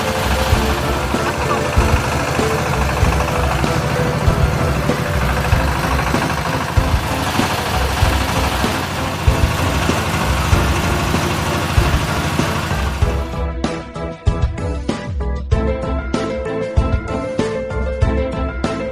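At a beef cattle research station in Grati, Pasuruan, a feed mixer machine blending cattle feed rations gives a dense, continuous mechanical roar with a steady thumping rhythm. The sound turns thinner and more clattering in the final seconds.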